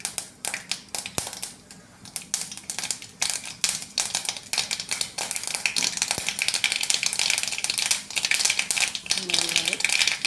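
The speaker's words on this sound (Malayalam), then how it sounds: "എണ്ണ ചൂടായി നമ്മൾ കടുക് ഇട്ട് കൊടുക്കാം" Mustard seeds crackle and splutter in hot oil with dense, irregular popping that builds over time, while someone talks over the sizzling.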